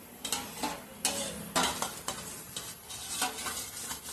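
A spoon scrapes and clinks softly and repeatedly inside a pot, stirring oil-free paneer masala paste in uneven strokes, with faint sizzling underneath.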